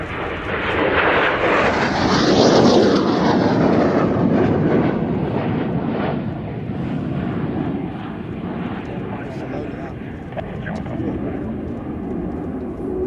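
An airliner arriving to land passes overhead with a loud, sustained jet roar that swells over the first few seconds and then settles into a steady, slightly fading rumble.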